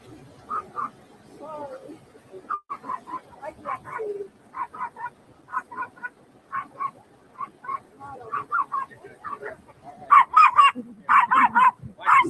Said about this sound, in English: You hear the dog? There's a dog in there.